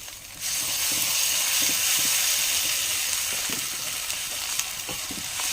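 Onions with ginger garlic paste sizzle in a pan for an egg masala curry. The frying starts abruptly and stays loud and close, with occasional scraping stirs cutting through the steady hiss.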